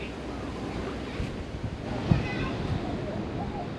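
Ocean waves wash onto the beach at the Aulani resort in Hawaii, a steady broad surf roar with wind buffeting the microphone and a slightly louder swell midway.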